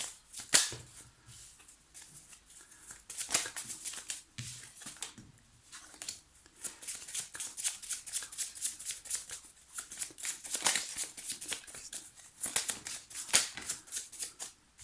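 A deck of tarot cards is shuffled up close in repeated bursts of riffling and slapping, with short quiet gaps between them and nobody speaking.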